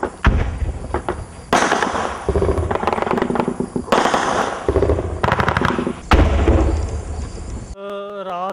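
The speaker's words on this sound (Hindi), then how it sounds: "पाकिस्तान की तरफ से रात दिन फायरिंग।" Gunfire from ceasefire violations on the India–Pakistan border near villages: loud, near, sustained bursts of rapid shots that continue almost without pause before cutting off abruptly.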